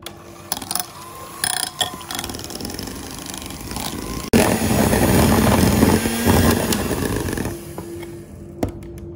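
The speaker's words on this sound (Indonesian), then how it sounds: "ini aku mau kocok dulu krim cheese-nya" An electric hand mixer whisks cream cheese for a chocolate cream cheese dessert box. It starts with a few short bursts, then runs as a steady, loud motor whir with a churning, rattling texture for several seconds before stopping.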